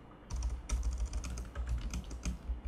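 Keys clatter on a computer keyboard in quick, uneven bursts of close, soft clicks, a short run of typing with brief pauses.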